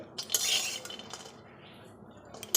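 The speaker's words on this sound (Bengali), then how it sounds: "আমি একটু শুকনো কলায় নেড়ে নিচ্ছি" Peanuts dry-roasting in a wok are turned with a utensil, giving a few light metallic clinks and rattling scrapes in short bursts, fairly quiet and close, with near silence between strokes.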